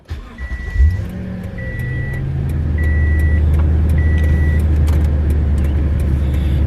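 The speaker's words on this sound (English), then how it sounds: "Let's start the truck again and see what happens when I'm sitting in the driver's seat." A Toyota Tundra pickup engine cranks and catches, then settles into a steady low idle, with a repeating chime beeping above it four times.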